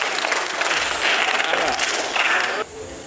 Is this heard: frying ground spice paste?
no